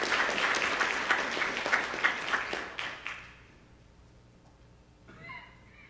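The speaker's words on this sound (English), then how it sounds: "We have time to clap" An audience at a technical talk on processor sleep and power claps briefly, the applause fading out after about three seconds and leaving near silence before a voice begins.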